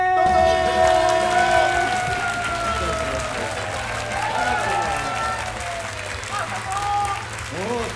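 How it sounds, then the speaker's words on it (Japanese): Studio audience at a Japanese radio-style talk show breaking into enthusiastic applause to welcome two female guests, steady crowd clapping throughout with a voice and some cheering mixed in. "入ってきたら盛大な拍手でお迎えしてください"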